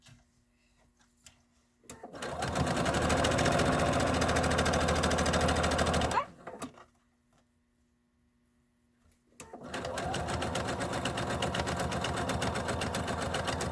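An electric sewing machine stitching a zipper bag runs in two long, steady bursts of fast, even whirring and needle clatter, separated by a few seconds of near silence.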